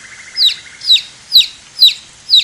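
A baby bird in a cartoon jungle tale chirps five times in an even rhythm, each a bright, loud, high-pitched cheep separated by short pauses.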